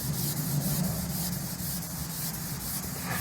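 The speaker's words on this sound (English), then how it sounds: "this is what I can use to go ahead and polish out the scratches if I want to" Chrome metal is sanded by hand toward a brushed finish with fine-grit sandpaper, a close, steady scratchy rubbing with rhythmic back-and-forth strokes and no voices.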